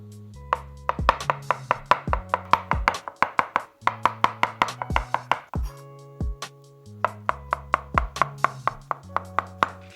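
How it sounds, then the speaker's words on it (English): Rapid knife chopping on a board, close and crisp, in quick steady bursts with a couple of brief pauses. "we're going to next chop up some mushrooms nice and fine"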